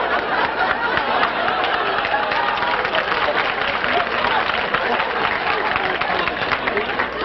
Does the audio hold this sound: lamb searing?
no